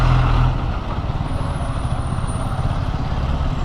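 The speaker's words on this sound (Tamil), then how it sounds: "சேலத்தோட டிராஃபிக் ஸ்டார்ட் ஆகிருத்து." City road traffic in Salem heard from a Yamaha R15 V4 motorbike, a continuous loud rumble of engines and passing trucks and buses, with a hiss of air brakes early on and a faint whine above.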